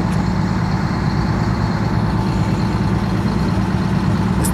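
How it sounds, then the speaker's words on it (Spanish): Several bus engines idle and rumble continuously at a bus expo in Guadalajara, a dense, steady low drone of nearby motors with traffic-like background noise. "Esto parece una central camionera, el estar escuchando los motores"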